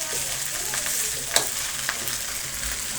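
Nasi kicap frying in a pan as it is stirred, a bright continuous close sizzle with a couple of sharp scraping clicks from the spatula, no talk.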